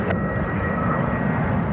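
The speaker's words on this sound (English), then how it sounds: "It's a A319 inbound from Atlanta." An Airbus A319 jet airliner inbound from Atlanta lands at Cleveland Hopkins Airport, a steady, fairly close engine roar with a faint whine, no talk over it.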